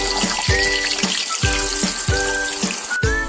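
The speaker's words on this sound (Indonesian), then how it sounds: "Kita goreng telur puyuhnya sampai berkulit." Quail eggs frying in hot, foaming oil in a home kitchen for balado, a constant loud sizzle and crackle with repeated thumps and clinks of a utensil against the pan.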